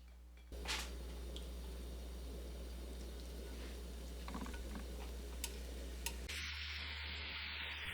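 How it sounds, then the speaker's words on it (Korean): Smoked duck sizzles in a hot pan with a continuous, even crackling hiss that starts abruptly, runs steadily with a few sharp pops, then cuts off near the end. "팬에 훈제오리 넣고 구워주세요."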